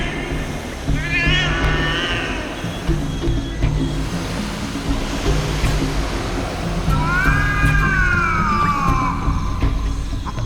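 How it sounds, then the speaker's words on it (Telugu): A cat caught in a net trap baited with dried fish lets out two drawn-out, wavering yowls, one short and one longer, over a low rumbling music bed. "ఆ ఎండు చేప వాసనకు వచ్చిన పిల్లిదెయ్యం ఆ వలలో చిక్కుకుంటుంది"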